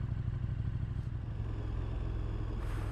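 A 2017 KTM Super Duke sport motorcycle engine runs with a steady low throbbing rumble close by, holding at an even idle throughout.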